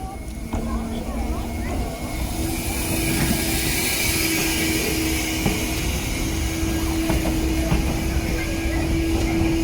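A sightseeing train rumbles steadily nearby with a continuous mechanical roar and a faint high whine, growing slightly louder midway, while a voice talks over it.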